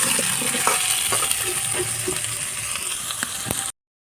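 Spice masala frying in a pan with potato pieces for an egg and soybean curry, stirred with steady, close sizzling and a few sharp spatula clicks and scrapes throughout.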